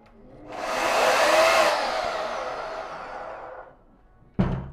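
A repaired electric garden tool at a repair café whirs up to a loud, steady motor whine once plugged in, runs for about three seconds, then winds down and ends with a thump.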